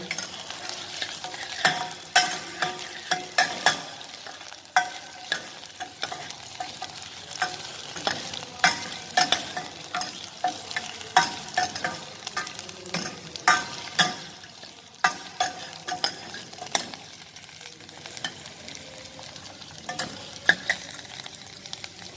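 Vegetables sauté over a low flame in a pan for broad bean soup, with a continuous soft sizzle broken by frequent clicks and scrapes of stirring, heard close and alone.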